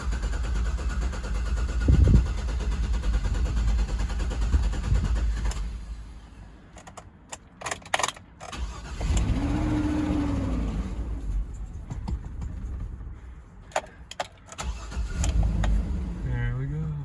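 A car engine cranks and catches after a fuel pump repair, then settles into a rough idle with a few revs rising and falling, recorded up close with the motor running steadily alongside background clatter.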